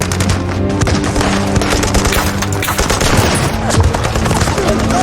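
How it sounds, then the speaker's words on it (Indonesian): Dense battle gunfire from a war film about the defence of the Brest fortress against German troops: rapid machine-gun bursts and scattered shots overlapping continuously, loud and close, with a few heavier booms mixed in. "seluruh pasukan pertahanan gerbang Holmsky langsung menghujani pasukan Jerman dengan tembakan"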